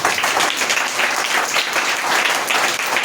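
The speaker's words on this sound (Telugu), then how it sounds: "గట్టిగా చప్పట్లు కొడదాం." A church congregation claps loudly and steadily together, making a dense, enthusiastic applause that fills the room without pause.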